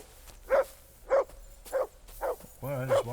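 A dog in the video game Kingdom Come: Deliverance II gives five short, evenly spaced barks, close and clear, with a voice speaking over the last one.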